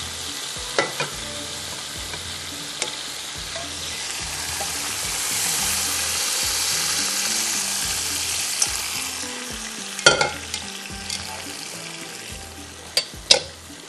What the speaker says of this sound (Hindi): इसको थोड़ा सा मैंने भूनना है।